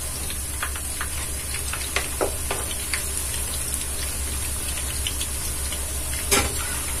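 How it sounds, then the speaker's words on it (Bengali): Noodle-coated chicken pieces frying in oil in a pan over medium heat, a steady close sizzle and crackle with a few sharper pops, no talking. "অল্প অল্প করে এভাবে ভেজে নিব"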